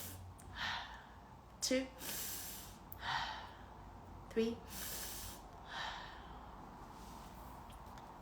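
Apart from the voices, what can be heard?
breathing in through the nose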